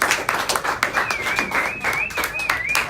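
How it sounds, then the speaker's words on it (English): A school public speaking class claps and applauds: several sharp, uneven claps in close succession, with a whistle-like tone drifting over them. "So let's please give a round of applause to Claudia."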